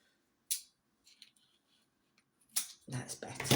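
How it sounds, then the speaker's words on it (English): A few crisp snips of scissors, short and close, then rustling and handling noises toward the end. "Where's my scissors? I'll use my scissors."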